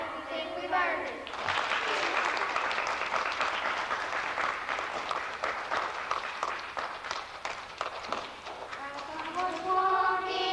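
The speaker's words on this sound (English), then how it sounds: "Now clap if you think we've earned it." An audience claps for a 1980s Thanksgiving performance at a Christian school, a dense, steady round of applause lasting several seconds, with voices heard just before it starts and again as it fades.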